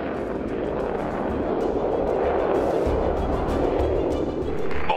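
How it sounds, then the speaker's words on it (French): A jet aircraft with an afterburner accelerates in a loud, continuous, rumbling roar that swells slightly over five seconds. "Avec l'impressionnant système de post-combustion de Whittle, il ne faut que quelques secondes pour passer de 0 à 100."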